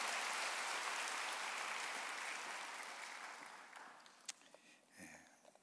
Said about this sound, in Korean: 다시 한번 여러분 큰 박수로 감사를 표하실까요?